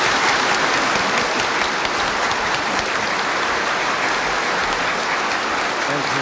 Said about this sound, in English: Now let us greet Mr. President's speech with a warm applause.